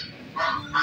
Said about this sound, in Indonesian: Tuh, itu angsa.